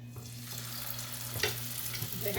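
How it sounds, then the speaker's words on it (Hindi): Potato lachha bread snacks deep fry in hot oil, a steady close bubbling sizzle that holds evenly throughout with a faint low hum underneath and no talking. "अब चलते हैं किचन में और किचन में चल के इसको फ्राई करते हैं।"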